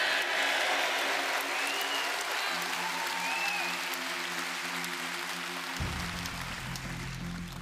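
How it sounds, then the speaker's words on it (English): An audience at a political speech by a Reform UK MP applauds loudly and continuously, a dense wash of clapping that slowly fades toward the end. "Yeah, you can clap for that as well."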